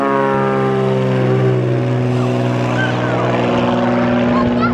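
A loud small propeller floatplane takes off from Lake Hood in Alaska, a steady droning engine roar with strong harmonic hum that holds close and powerful throughout, no talking over it.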